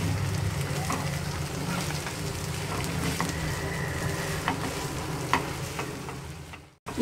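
Egg fried rice is stirred in a hot pan, with a loud, continuous close sizzle and light scraping and tapping of the spoon, ending abruptly just before the close.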